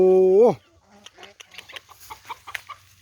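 A rooster's crow cuts off, followed by a run of soft, quick clucks from nearby chickens.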